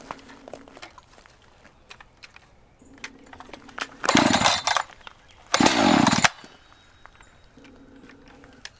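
Echo CS-590 Timberwolf chainsaw being started after refuelling: two brief, loud roaring bursts about a second apart from the small two-stroke engine, set between quiet handling clatter and near-silence, with no talking.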